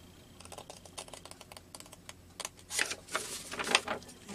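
Scissors snip through paper for a napkin art seed packet, a string of quick crisp cuts at close range, growing louder and rougher toward the end.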